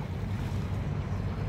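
A seaweed-clearing boat at work on the sea near Subic Bay, heard as a continuous low rumble mixed with wind and lapping water, steady and fairly loud throughout, with no talking.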